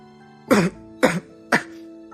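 Three short, evenly spaced coughs, close and fairly loud, with brief quiet gaps between them.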